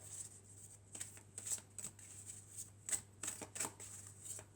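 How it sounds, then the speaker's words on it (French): Oracle cards from the Triade oracle deck being shuffled, a quiet run of soft papery riffles and flicks in irregular bursts, close up with no talking. "on va prendre quelques cartes de l'oracle de la Triade"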